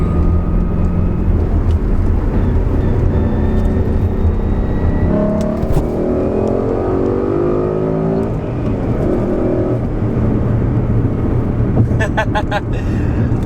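A first-generation Ford Mustang's engine drones loudly from inside the cabin as the car accelerates through second gear toward 7,000 RPM, its pitch climbing steadily under a voice.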